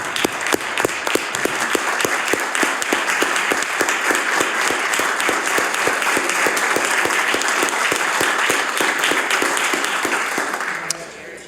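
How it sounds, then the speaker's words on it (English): A legislative chamber in the House of Assembly gives a standing round of applause. Many hands clap in a dense, sustained patter for about eleven seconds, then taper off near the end. "Mr. Clarendon Robichaud, I'd ask the House to please stand and give a round warm applause."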